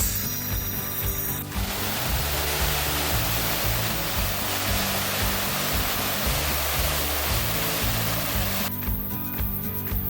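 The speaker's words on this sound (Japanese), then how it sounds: "この川のせせらぎの音を聞きながらね歩くだけで気分爽快でございます" A babbling river stream beside a walking trail on New Zealand's North Island, near Blue Spring. It makes a continuous, dense, rushing wash of water that stays steady and fairly close, with faint clicking and knocking sounds at the start and end.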